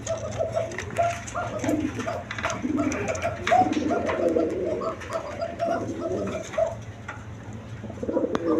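A female fancy pigeon, red-barred with three bands, coos in low repeated rolling phrases close by, with other birds cooing softly behind and a faint steady hum.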